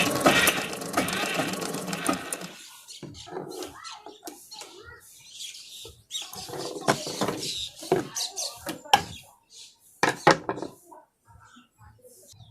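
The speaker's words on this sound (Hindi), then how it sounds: "तो अब हम चाहें तो बिल्कुल धड़ल्ले से हम सिलाई चला सकते हैं" A Pico sewing machine stitches in short bursts, with rapid mechanical whirring and clicking that starts and stops across the stretch; a person talks at times between the runs.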